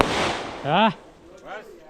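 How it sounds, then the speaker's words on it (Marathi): Firecrackers crackle and pop at a village Ganesh festival in Konkan, a short dense burst at the start, followed by people talking and laughing nearby. "नंदनचा फटाके लावता काम चालला"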